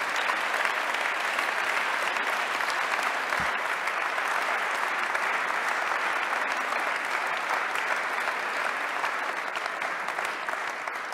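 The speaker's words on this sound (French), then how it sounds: "Et on peut tous applaudir Alban" Applause for Alban at an awards ceremony, a dense, even crowd clapping that is loud and continuous for the whole stretch, with no voices standing out.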